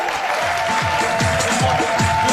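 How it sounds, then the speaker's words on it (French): A crowd cheering and applauding together, a continuous wash of clapping and shouts with rhythmic chanting beats pulsing underneath and some voices rising above it. "Acclamation!"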